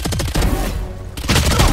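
Video game Valorant gunfire: a loud rapid burst of shots, a short lull, then another quick volley, close and dense with no voices.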